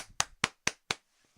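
Four sharp hand claps in even succession, close and loud, followed by a short quiet tail.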